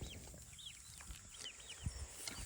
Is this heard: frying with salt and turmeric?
no